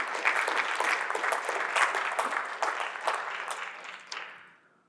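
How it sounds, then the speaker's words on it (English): Audience applause at a marketing conference talk, honoring Ezra and his team in the back: a room of steady, dense clapping that holds for about four seconds, then thins and fades out at the end. "could I get a little round of applause for Ezra and the team in the back?"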